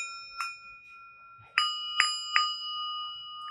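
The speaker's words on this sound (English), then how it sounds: "I still don't have any bells to ring, but I found some bowls." A bowl struck like a bell rings out in several separate clear metallic dings, the later strikes louder with sustained shimmering tones that linger and overlap, close and alone without talk.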